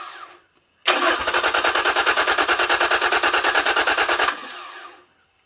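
An outboard motor on an Alvey Pontune pontoon boat, winterized and running on fogging oil, is cranked and fires up: a loud, rapid, rhythmic putter for about three and a half seconds, then it cuts and fades out.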